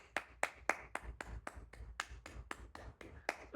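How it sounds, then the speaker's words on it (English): Hands clap in a steady, moderately quick rhythm, about a dozen sharp, close claps in a row, fairly quiet overall with no talking between them. "So that's clapping."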